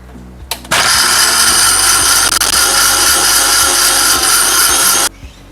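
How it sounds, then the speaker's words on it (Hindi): A mixer grinder whirs loudly and steadily for about four seconds as it grinds peanuts with water in its jar, starting abruptly and cutting off cleanly, with no talking. "बस 2 मिनट ग्राइंड करने के बाद मैं एक बार मिक्स कर रही हूँ"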